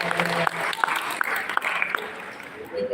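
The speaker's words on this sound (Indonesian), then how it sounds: "Tepuk tangannya deh buat kita semua" Audience at an Indonesian parenting talk applauding together, a brief scattered clapping burst with a voice talking over it before the clapping fades out.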